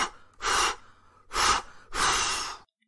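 A voice imitates a wolf blowing hard on a house, with three long forceful breathy blasts separated by short pauses, loud and close with no speech.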